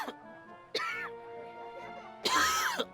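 A woman coughs in two separate harsh bursts, near and fairly quiet, with a faint tonal hum lingering between them.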